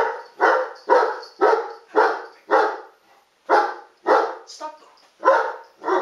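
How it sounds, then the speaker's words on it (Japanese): A dog barks repeatedly at close range, about ten sharp, evenly spaced barks with a brief pause midway, loud and alone without talk. "レオ、吠えない。"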